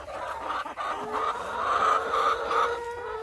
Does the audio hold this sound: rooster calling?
yes